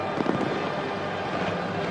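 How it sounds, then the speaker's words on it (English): Fireworks going off over a stadium at a 1993 State of Origin rugby league night match, heard as a dense, continuous rumble of bangs mixed with crowd roar, without distinct separate pops. "Fireworks light the skies."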